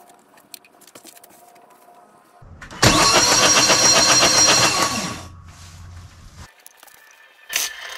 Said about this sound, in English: then after that, we'll turn this motor over.